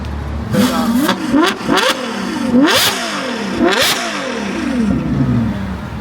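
A high-performance car engine revs hard several times, with rapid rising and falling pitch sweeps, loud and close, as it accelerates.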